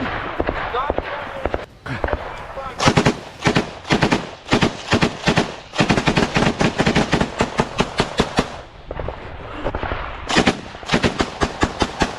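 Gunfire erupts in a direct firefight between Ukrainian and Russian soldiers, with dense bursts and rapid volleys of shots, some loud and close, repeating in clusters with brief lulls between them.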